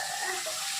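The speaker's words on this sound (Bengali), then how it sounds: "এবার সামান্য একটু জল দেবো" A small splash of water poured into a hot pan of frying aubergine and fish curry, a brief hissing rush of liquid meeting oil, close and steady.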